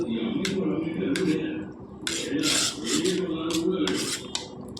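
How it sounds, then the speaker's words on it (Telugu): A metal spoon scrapes and clinks against a pan as onions and green chillies are stirred, in repeated rasping strokes that stay close and steady, with brief speech over them. "అన్నీ వేసుకొని బాగా కలుపుకోవాలండి"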